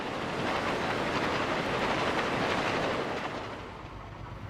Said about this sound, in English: E7s lead a train past Multnomah Falls,